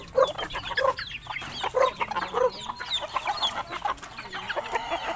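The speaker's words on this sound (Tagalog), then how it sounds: "feeding time na naman natin mga manok" Chickens cluck busily near and around at feeding time, short overlapping calls in irregular bursts, with a faint crow somewhere among them.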